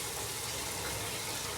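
A continuous rushing pour of cooking oil into a pan is close and steady, with a dense hiss and no pauses across the short stretch.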